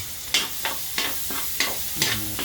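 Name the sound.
garlic sautéing in a pan for spaghetti sauce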